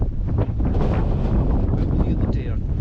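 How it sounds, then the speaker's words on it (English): Gusty wind buffets the microphone on an exposed hilltop wild camp at Ros Castle, a steady loud rumble with rushing swells throughout, and a voice faintly mixed in. "when it's windy like this"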